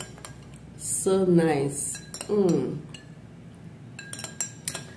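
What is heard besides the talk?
spoon stirring yeast and honey drink in a glass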